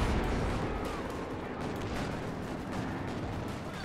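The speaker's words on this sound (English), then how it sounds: "Oh, the priest just got a big shot on the Panzer." Priest self-propelled gun from a World War II strategy game firing on a Panzer tank: a dense, continuous roar of artillery and gunfire, loud and sustained throughout with overlapping blasts and rumble.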